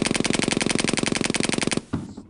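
Rapid automatic gunfire aimed at the player in a zombie video game, a steady burst of loud, evenly spaced shots for nearly two seconds, then stopping abruptly with a brief thud and quieter game noise.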